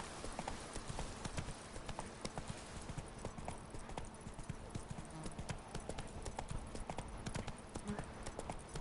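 Galloping horse hooves in The Witcher 3: Blood and Wine, a steady rapid clip-clop that stays loud and close throughout, with no talk over it.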